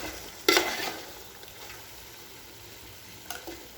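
Tender goat meat sautés with garlic in a pan, giving a soft, steady sizzle. One sharp stir or scrape stands out early and another comes later, all close and fairly quiet.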